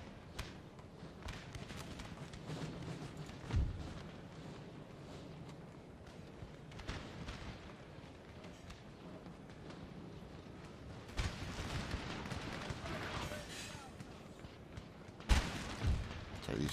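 Cannon artillery booms across a Napoleon: Total War battlefield, scattered dull thuds rising out of a steady battle din with a few louder reports near the end, as a player gives orders.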